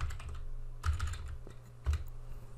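Keystrokes on a computer keyboard while typing Scheme/Lisp code, a light run of clicks with two louder bursts, close and clear with no talking.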